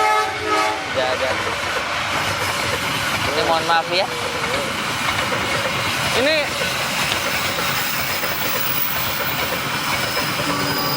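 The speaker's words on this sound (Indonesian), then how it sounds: "Kereta api Kertanegara itu." The Kertanegara passenger train rumbles past loudly and continuously, with a horn sounding a few times over the steady rolling noise of the cars while someone talks briefly nearby.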